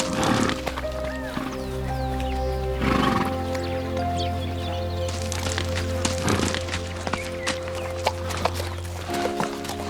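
Wild horses fight for dominance, with loud repeated neighs and whinnies over heavy clip-clop of hooves and scuffling, close by and continuous.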